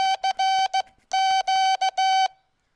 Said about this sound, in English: Okay, so I'm using a straight key to do that.